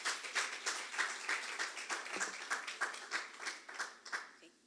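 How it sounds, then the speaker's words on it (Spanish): A church congregation applauds together, a steady rhythmic clapping that rises and falls in even pulses for several seconds, fairly close and filling the room before fading at the end. "aplauden para el Señor"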